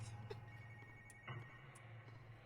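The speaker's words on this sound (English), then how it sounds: "Why are we hearing ringing?" Ringing tone in a horror video game, a repeated telephone-like ring running faintly under a low hum, with a brief louder burst partway through.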